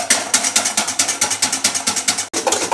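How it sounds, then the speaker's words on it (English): Egg whites whisked by hand in a bowl, a fast regular clicking beat of roughly four strokes per second, close and loud, with one brief break near the end, no voices. "So I've been whisking this egg whites up for a few minutes now."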